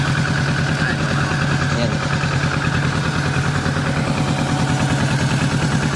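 A 2022 Kawasaki Ninja 650 idles close by, its twin-cylinder engine putting out a steady throbbing exhaust pulse, with a brief spoken word over the running motor.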